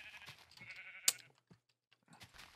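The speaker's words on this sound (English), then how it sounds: "With all these sheep, it's not going to be easy though." Sheep in a building game bleat in several short, wavering calls close by, with a sharp click in the middle and brief quiet gaps between the bleats.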